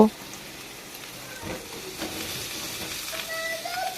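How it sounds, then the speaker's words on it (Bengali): Raw banana pieces stirred and frying in a spice paste, a soft, steady sizzle with occasional scraping of a spoon against the pan, close and moderately quiet. "মশলার সঙ্গে কলাগুলোকেও ভালো করে কষে নিচ্ছি"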